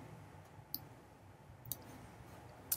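Computer mouse clicks, three sharp isolated clicks spaced about a second apart over a quiet background, no talking.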